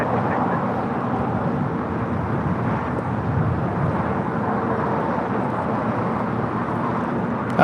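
Boeing 777 freighter jet engines spooling up for takeoff at an airport, a steady distant broadband roar that holds constant throughout, with no talk.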